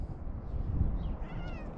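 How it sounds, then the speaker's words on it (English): A cat outdoors gives a faint, distant meow or two over a low rumbling background, with no talking. "There's just a cat over there."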